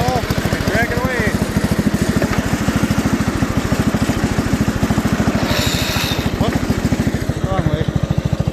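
An Allis Chalmers B-110 garden tractor fitted with a winch runs steadily throughout, its engine giving a loud, close, continuous chugging drone while dragging a load, with a voice talking briefly over it.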